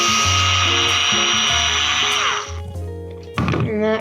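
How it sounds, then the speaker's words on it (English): Electric screwdriver whining steadily as it backs tough screws out of a baitcaster fishing reel, close and loud, then stopping with a short rattle and clatter of parts. "this is just really an electric screwdriver"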